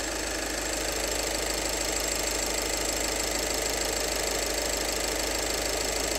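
A car engine idles steadily with an even, continuous mechanical hum and light ticking, constant in level throughout with no revving and no voices.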